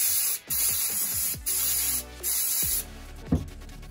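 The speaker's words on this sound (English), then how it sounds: "the last thing is just give this a spray," Several short bursts of aerosol spray hiss close by onto the filter of a Paslode IM65 nail gun, separated by brief pauses, followed by a few soft rubbing and handling sounds.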